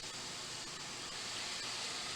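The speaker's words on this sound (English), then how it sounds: "And then I'm just going to throw some water on there." Water splashed into a hot pan of sausage and vegetables, a faint steady hiss of sizzling steam holding evenly throughout.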